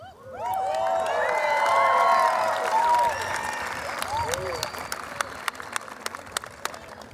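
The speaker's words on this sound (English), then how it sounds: "let's keep the applause nice and loud for this" Loud, sustained applause with cheers and whistles fills a high school graduation ceremony during the diploma presentation, then thins into scattered individual claps near the end.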